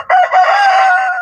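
A rooster crows loudly and close by among chickens, a single full cock-a-doodle-doo call ringing out clearly on its own.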